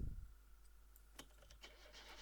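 Car engine cranking and catching in the video game My Summer Car, a quiet starter whir followed by a few clicks and a low steady hum, heard alone.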